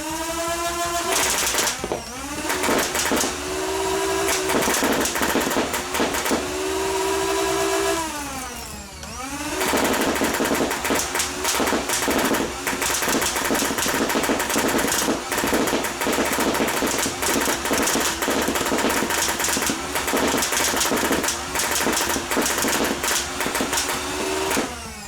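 A modded Nerf Rival Perses blaster fires foam balls at stock speed, a loud sustained motor whine with a rapid clattering of shots, briefly spinning down and winding back up before running on to the end.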